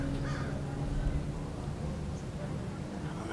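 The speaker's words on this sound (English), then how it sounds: "We have birds everywhere." Crows caw among many birds at Edison, the calls faint and scattered over a steady, loud background rumble.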